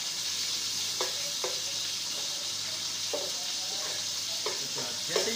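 Chopped small tomatoes sizzling in a hot pan while a spoon stirs them, a steady frying hiss with periodic scraping taps close by and faint voice in the background.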